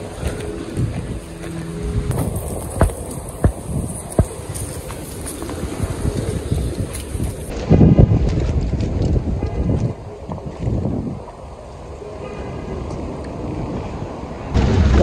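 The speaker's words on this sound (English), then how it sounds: "It's nice outside. A little windy, but it's still nice." Wind blows outdoors in a park on an autumn day, as gusty, rumbling microphone buffeting. It is loud and uneven, surges around the middle, and has occasional thumps with no voices.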